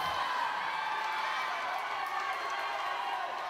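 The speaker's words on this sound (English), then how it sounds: "as you can hear, the fans are cheering here because it looks like it's pretty tight here between Brian and Joseph" Crowd of fans cheering at an aquatics swimming race during a tight finish, a steady broad roar of many voices filling the venue without pause.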